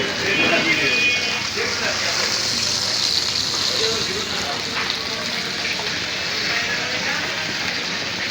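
Chicken chap frying in a restaurant pan of mustard oil, dalda and ghee, a steady broad sizzle filling the whole stretch at an even level, with voices talking over it at times.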